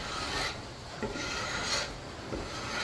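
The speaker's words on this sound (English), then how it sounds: "You just take it and scrape. Scrape all that varnish off." A flat steel scraper with a 90-degree edge is dragged along a wooden double-bit axe handle to strip the varnish, making repeated rough rasping strokes in a steady back-and-forth rhythm, close and continuous, with no voices.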